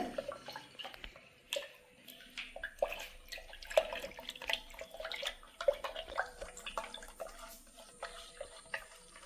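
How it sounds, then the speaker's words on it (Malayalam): Homemade liquid laundry detergent being mixed by hand into about 800 ml of water, with irregular sloshing splashes and drips close by and no speech. "എണ്ണൂറ് എം എൽ വാട്ടറിലേക്ക് ഈ രണ്ടാം നമ്പർ എഴുതിയിട്ടുള്ള ഐറ്റം ഇട്ട് കൊടുക്കാണ് കേട്ടോ എന്നിട്ട് നല്ലതുപോലെ മിക്സ് ചെയ്തെടുക്കാണ്"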